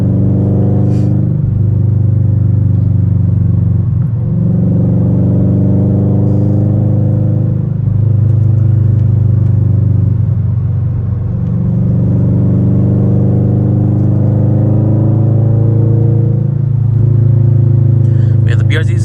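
Subaru BRZ cruising curvy back roads, its engine a steady loud droning rumble with harmonic tones rising and falling as it revs through gears, continuous and close throughout.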